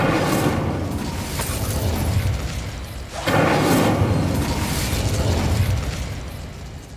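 Two heavy fiery blasts from the Confringo spell in Hogwarts Legacy, both loud and near, each followed by a long rumbling roar of flame that fades slowly.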